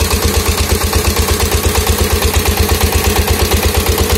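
A 20 HP diesel engine drives a 6-inch Intan water pump for irrigating crops, thumping in a loud, fast, steady rhythm at close range with no talk.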